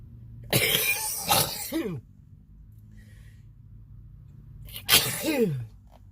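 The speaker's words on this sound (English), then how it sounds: "I'm about to have a sneezing fit." Two loud, explosive sneezes a few seconds apart, each with a sharp intake before it and a trailing voiced tail, with quiet in between.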